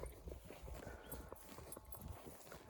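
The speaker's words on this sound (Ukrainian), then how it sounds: "Продовжую вам знімати і показувати свої коней" Horse hooves clip-clopping steadily at close range, a stallion among a farm's horses, with a continuous run of rhythmic hoof strikes and no talking.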